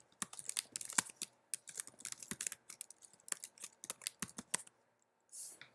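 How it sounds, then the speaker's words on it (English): Rapid typing on a computer keyboard while filling out a form, with dense, close key clicks in irregular bursts and short pauses, with no talk. "I can't quite type my email address."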